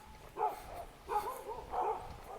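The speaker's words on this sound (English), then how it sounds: "It's a chunky English bulldog." An English bulldog on a hiking trail barks three times in spaced bursts, close and moderately loud, with no talking over it.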